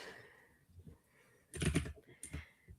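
A mechanical keyboard clicks in a short, quiet burst of keystrokes, with a denser cluster of clacks in the middle. It is heard up close in a quiet room.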